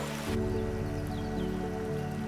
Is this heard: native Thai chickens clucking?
no